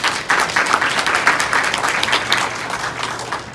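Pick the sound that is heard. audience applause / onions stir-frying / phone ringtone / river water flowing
audience applause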